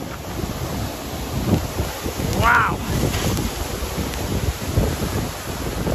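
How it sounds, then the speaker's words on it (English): The Machay waterfall on the Ruta de las Cascadas in Baños, Ecuador roars as broad, steady rushing water mixed with wind buffeting the microphone, while a person briefly exclaims. "Another incredible waterfall."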